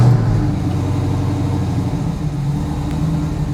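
A 1967 Pontiac Firebird's engine runs steadily in neutral with the clutch in, a loud, close, even rumble that holds without revving for the whole stretch.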